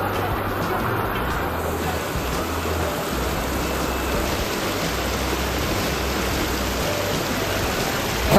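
Water rushes and splashes steadily at Khajina waterfall, a loud, continuous broadband roar close by, with a faint low hum underneath and no clear speech.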